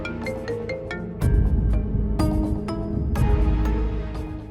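An incoming phone call rings with a melodic ringtone in an Indonesian TV drama. Repeated bright electronic tones play steadily under a swelling musical score.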